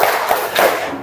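An audience claps together in a rhythmic call-and-response chant, a few loud, dense bursts of many hands close by, with crowd noise in the background.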